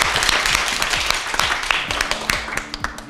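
Schoolchildren in a classroom clapping for a classmate, a brisk patter of many small hands, close and fairly loud, with a few scattered voices.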